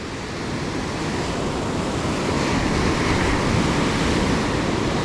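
Ocean surf on an open fishing beach at sunrise under overcast sky, a continuous loud wash of breaking waves mixed with gusty wind buffeting the microphone, no voices.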